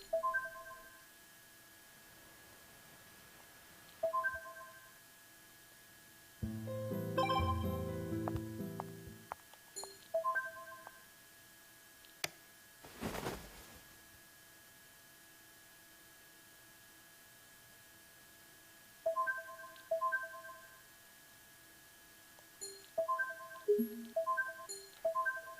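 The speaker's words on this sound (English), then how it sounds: "My phone rings." A phone ringing in the video game World End Syndrome comes as short repeated electronic tone bursts in several separate groups, with musical and electronic game sounds between them and no talk.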